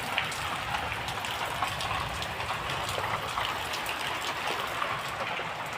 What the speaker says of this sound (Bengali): আজ প্রচুর বৃষ্টি হচ্ছে